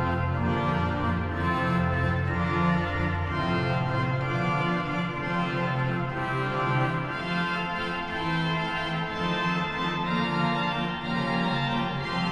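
Pipe organ at Onze-Lieve-Vrouw Bezoekingkerk in Hasselt, Belgium, with all the small manual's stops drawn together, including the free reed Euphonia, giving a dense, rich sustained chord texture that stays loud and even without any voices.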